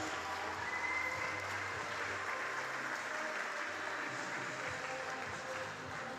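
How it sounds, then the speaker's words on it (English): An indoor pool crowd at the British Swimming Championships applauds the 100-meter breaststroke swimmers, a steady, distant wash of clapping that holds evenly throughout. "Can we have a round of applause, please, for all of the swimmers in the 100-meter breaststroke at the British Championships?"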